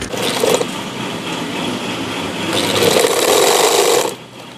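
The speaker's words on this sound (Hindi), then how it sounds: "तो हम इसको इस तरह से अब सिलाई लगा लेते हैं।" A sewing machine stitches a sleeve in fast, continuous bursts of buzzing mechanical clatter, close and loud, with a brief pause before a second stronger run that stops abruptly.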